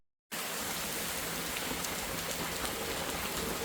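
Steady, dense rain pours down evenly and continuously, a full hiss that starts abruptly after a brief silence.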